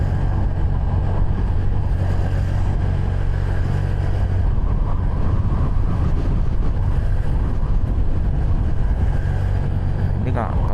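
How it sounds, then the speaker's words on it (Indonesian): Strong November wind on a mountain road climbing toward Bromo via Tumpang and Jemplang makes a constant loud roar and buffeting against the microphone, mixed with a low steady vehicle rumble for the whole stretch. "di bulan November ini emang anginnya cukup kencang teman-teman ya"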